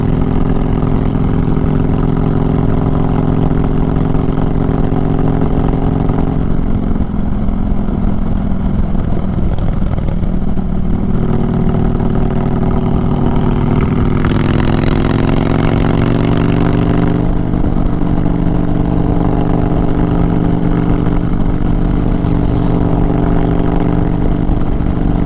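2022 Honda Fury motorcycle with a large V-twin engine, a loud, close, continuous throbbing rumble that idles, then revs up and down as the bike pulls away and rides on.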